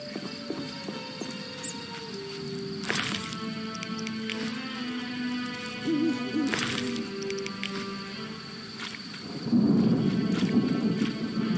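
Rain and thunder in the video game The Witcher: Enhanced Edition, with rumbling thunder cracks rolling through a steady rain wash, a rising heavier burst near the end, and no talk.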